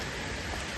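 Steady rain pouring down near a waterfall picnic spot in Mahad, a dense, even wash of falling water, close and unbroken for a brief moment with no one speaking.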